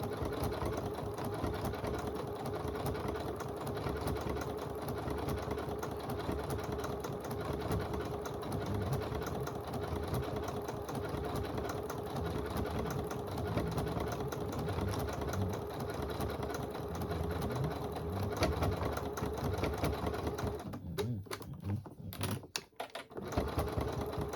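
A sewing machine works a decorative stitch on a poinsettia table runner, giving a steady, even mechanical whir with fine rhythmic ticking, moderately quiet and continuous before briefly faltering near the end.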